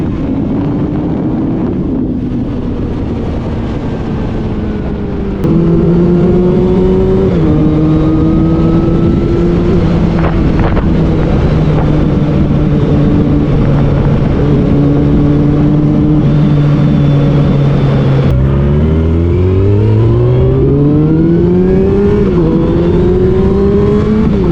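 A classic Yamaha Fazer motorcycle on the road, its engine droning loudly and steadily through shifting gears, rising and falling in pitch with revs, mixed with heavy wind rush over the microphone, no talking.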